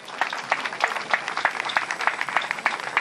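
Congregation clapping at a funeral service in Kinshasa, steady rhythmic applause with regular bursts across the whole stretch, moderately loud with no talk over it.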